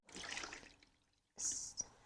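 Water pours briefly into a small diffuser reservoir with a soft trickling splash, followed after a pause by a second short splash and a faint drip, close and quiet.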